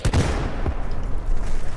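Rifle fire in a sci-fi multiplayer shooter game, a dense crackling volley of shots in the opening half second, then a steady low rumble of ongoing battle noise with no voices.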